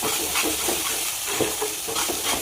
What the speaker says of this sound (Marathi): आता आपण जे वाटण तयार केलेलं आहे ते पण या ठिकाणी आता तेलामध्ये फ्राय करून घेऊया